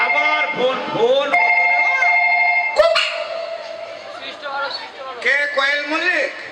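Telephone ring trills sound in repeated bursts amid a stage comedy skit, loud and close, with performers talking over and between the rings.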